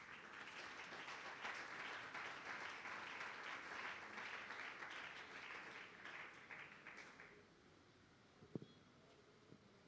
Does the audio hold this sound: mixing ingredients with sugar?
no